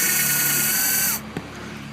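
Small powered tool boring a hole through a car's bodywork for an amplifier power cable, a steady high whine that cuts off after about a second, then a faint click, close and loud.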